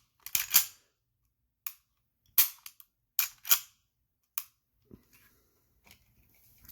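An HK P30 V3 pistol being dry-fired: a few sharp, crisp trigger clicks, close and distinct, spaced irregularly with brief gaps and fainter mechanical ticks between them.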